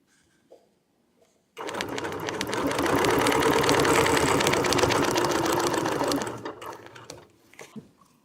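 A sewing machine with a ruler foot stitches in one sustained burst of fast mechanical chatter, starting abruptly after a quiet moment and fading out with a few faint handling clicks afterward.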